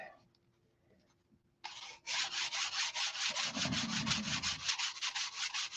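Sandpaper rubs back and forth on a small wooden model aircraft, a steady run of quick rasping strokes close by, starting after a short quiet lead-in with no talk.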